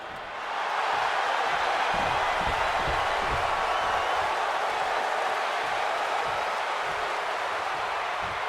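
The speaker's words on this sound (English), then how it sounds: "this capacity crowd just exploded" Capacity arena crowd in WWE 2K26 erupts in a sustained roar of cheering for a CM Punk versus Seth Rollins match, a loud steady wall of noise with scattered thumps and claps.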